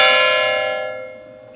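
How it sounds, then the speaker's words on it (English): Church bells ring out at a monastery academy's commencement, a single clear resonant strike whose bright overtones hum and slowly fade over a second and a half. "The bells begin to come to the climax here."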